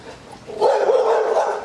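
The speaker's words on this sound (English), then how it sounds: "Oh, I'm moving away from these dogs again." Dogs bark outdoors in Thailand, a single rough burst of barking rising suddenly out of quiet background noise and holding briefly.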